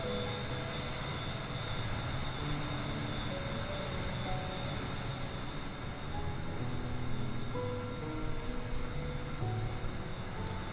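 A BAe 146 airliner in Microsoft Flight Simulator making a flyby over mountains in the Alps, its engines giving a steady droning roar with a constant whine that holds at an even level and has no voices.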